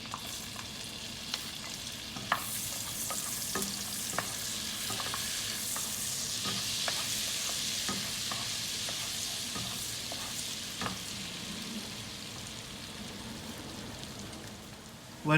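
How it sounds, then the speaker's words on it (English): Chopped onions sauté in melted butter in a pan with a continuous soft sizzle, faint spoon scrapes and stirring ticks throughout, with no voices. "then we put our chopped onions and saute it a little bit"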